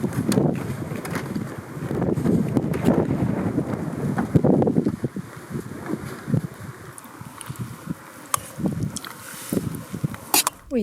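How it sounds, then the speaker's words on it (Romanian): Gusty wind in Norway's far north near Hammerfest buffets the microphone in heavy, uneven rumbles, with scattered clicks and knocks; a voice can be heard faintly now and then. "Vântul nu pare să se oprească, din contră, se întețește tot mai tare."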